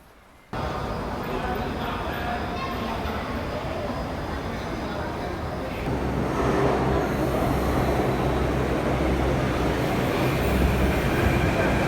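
A Delhi metro train rumbles along, a quiet carriage hum that swells into a louder, heavier roll of wheels midway, steady and continuous throughout.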